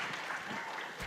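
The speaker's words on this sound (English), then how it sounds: "A big round of applause for her." Audience applause fills a children's summit session hall: steady, dense clapping throughout, fairly faint and distant.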